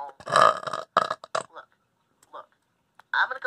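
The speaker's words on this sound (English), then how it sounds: "can you stop burping?" A cartoon character from The Simpsons lets out a loud, drawn-out burp in several gurgling pulses, followed by short pauses and another burst, close and prominent.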